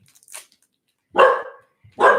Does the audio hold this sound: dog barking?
yes